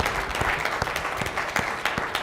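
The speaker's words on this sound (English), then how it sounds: "I'll give a round of applause for that." An audience at a Black History Month unity forum claps in a short burst, dense and close with overlapping hand claps and no voices above it.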